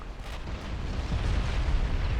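Heavy naval gunfire and shell impacts in the warship game Ultimate Admiral Dreadnoughts, a shell penetrating a battleship's aft belt armor amid continuous low, rumbling booms that swell toward the end.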